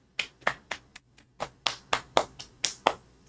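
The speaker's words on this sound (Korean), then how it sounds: "박수 한번 주세요" A small group claps along at a Korean live-streamed gathering, sharp separate handclaps falling in a fairly steady rhythm, roughly a dozen close-up claps with no talking.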